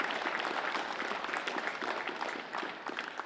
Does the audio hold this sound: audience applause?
yes